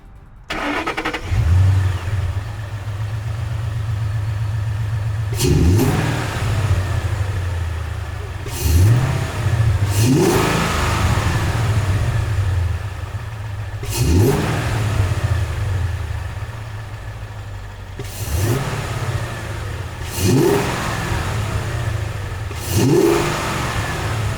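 A ten-year-old Ford Mustang GT V8 with a ROUSH cold air intake idles with a deep rumble, then revs sharply several times in a steady rhythm, each blip rising and falling back to idle.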